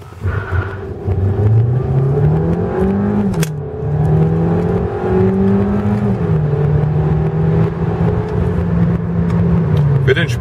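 An Audi A3 e-tron plug-in hybrid, with a 150 PS petrol engine and an electric motor giving 204 PS combined, accelerates hard from 0 to 100 km/h. The engine note rises steadily through gear changes, loud and close, with speech over it.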